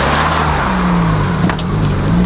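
A car's engine drones loud and close as it pulls away at a track, its low hum wavering with an uneven surge partway through as the car jerks.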